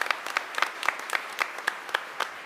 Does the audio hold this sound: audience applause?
yes